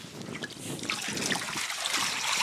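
Boiling water from an electric kettle is poured in a continuous trickling, splashing stream, close and fairly loud, with no voices.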